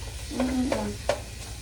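Elk meat browning in a pot for stew, giving a soft, quiet sizzle with a few brief stirring scrapes over a short moment.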